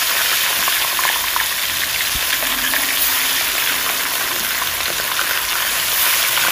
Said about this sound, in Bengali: তেলটা ভালো করে গরম করে এবার এতে একে একে মাছগুলোকে আমি ছেড়ে দেব